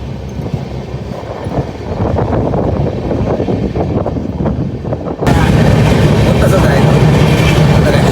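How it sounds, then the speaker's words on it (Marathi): A train clatters along with rhythmic rumbling and knocking as it slows approaching Mathura station, then shifts into a louder, steadier roar; voices talk over it at times. "जरा बघा ट्रेनची स्पीड लय कमी झाली आहे"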